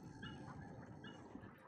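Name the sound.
robotic puppy whimpering in video game Soma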